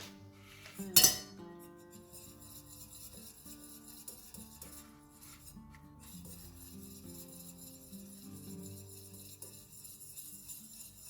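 A utensil stirs melted candle wax for a whipped-wax chocolate dessert candle in a container, opening with a sharp clink and then settling into steady, soft scraping and swirling, close up with no talking.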